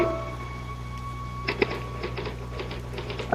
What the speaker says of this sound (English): I typed through the night.